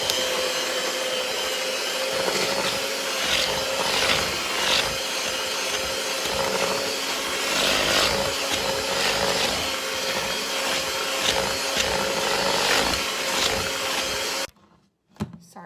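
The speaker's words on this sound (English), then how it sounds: "I'm gonna blend it again." An electric mixer beats cheesecake batter for a banana split cheesecake, a loud steady whirring drone with scraping texture that runs continuously for about fourteen seconds, then cuts off abruptly.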